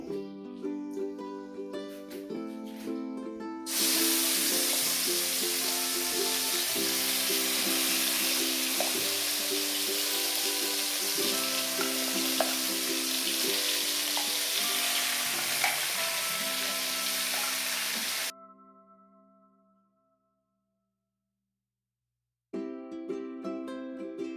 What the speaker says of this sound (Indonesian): Kita tumis dulu bumbunya ibu-ibu